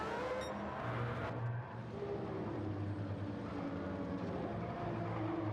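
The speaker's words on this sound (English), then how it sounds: "now in his first flyer, the Mazda 3 4-rotor" A Mazda 3 race car with a four-rotor engine runs a flying lap at Road Atlanta, its engine a steady distant drone with shifting tones and a brief dip early on.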